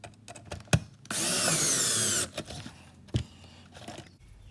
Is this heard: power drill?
yes